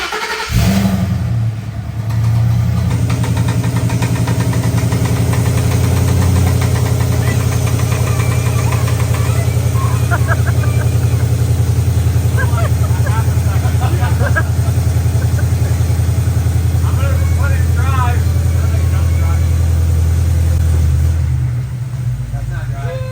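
A Ford Coyote V8 swapped into a truck fires up and settles into a loud, steady idle with a deep rumble and a constant mechanical clatter that runs for about twenty seconds before cutting off.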